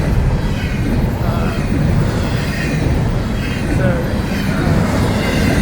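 An FEC freight train rolls past steadily, a mixed consist that includes ethanol tank cars and manifest cars, its heavy low rumble and wheel noise continuous and fairly close throughout, with faint voices in the background.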